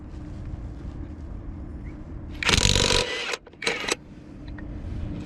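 A Top Shak brushless impact wrench set to reverse with a 21mm socket removing nuts, two short loud bursts of buzzing hammering over a low steady engine hum.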